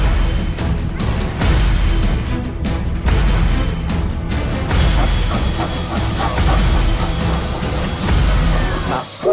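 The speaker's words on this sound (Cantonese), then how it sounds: "今期嚟睇睇 Thomas 火車嘅真人版" A real steam locomotive dressed as Thomas the Tank Engine, filmed at a New Zealand attraction, gives off a loud, steady hiss of steam over rumbling running noise. A sharp burst of venting steam takes over halfway through.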